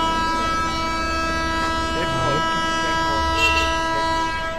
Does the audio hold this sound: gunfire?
no